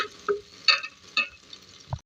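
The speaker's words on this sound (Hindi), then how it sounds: "अब इसकी अच्छी तरीके से भुनाई करेंगे लहसुन अदरक के साथ डालकर" Garlic, ginger and dried red chillies fry in a pan with onion and spices, giving a soft sizzle broken by a few stirring scrapes and clatters, close and fairly quiet, with no talk.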